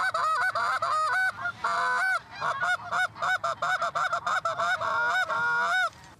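A greater goose call blown in rapid, honking bursts while hunting snow geese, loud and close, mimicking geese with quick repeated two-note honks and brief gaps between series.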